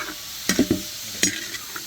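Chicken pieces with drumstick, green chillies and spices sautéing in a pan, soft sizzling under a few sharp clinks and scrapes of a spoon stirring, close and fairly quiet.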